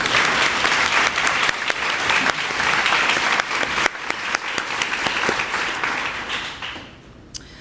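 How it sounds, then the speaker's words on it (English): Audience at a YWCA ribbon cutting at the Mustard Seed Place in Portsmouth, Virginia, gives sustained applause, dense and steady clapping that thins out and fades near the end. "Please join me in a round of applause."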